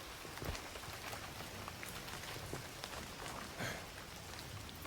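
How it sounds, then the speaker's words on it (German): Rain falls in a jungle in the video game Indiana Jones and the Great Circle, a soft steady patter with scattered close drops ticking on surfaces, fairly quiet and without talk. "Es ist irgendwo im Dschungel. Würde ich mal so behaupten. Und es regnet."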